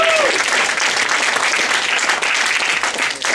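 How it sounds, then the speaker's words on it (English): A comedy club audience claps and cheers loudly for a Russian audience member, a dense, continuous wash of close applause with no talk over it. "Round of applause for the Russian guy."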